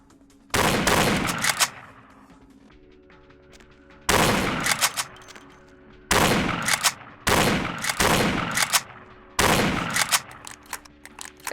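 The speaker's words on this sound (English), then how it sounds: "I am literally trying to just win the battle of shotguns." Shotgun blasts in Vampire The Masquerade Bloodlines come as about six loud, sharp booms spaced a second or two apart, each trailing into a rattling decay with quiet gaps between.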